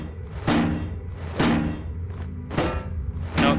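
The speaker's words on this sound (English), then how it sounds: "Empty boxes of ammunition. Can I break those too?" Heavy hammer blows strike wooden ammunition boxes in Penumbra: Overture, four separate loud, thudding knocks spaced unevenly about a second apart, each with a short splintery crack and no talking.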